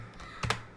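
A few quick computer keyboard keystrokes entering a command into the Windows command prompt, a short clustered burst of clicks near the end, close and fairly quiet with no talk.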